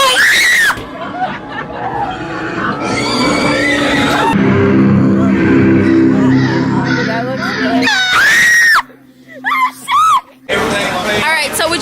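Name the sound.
screaming inside a haunted house attraction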